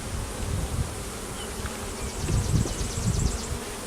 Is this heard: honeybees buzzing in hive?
yes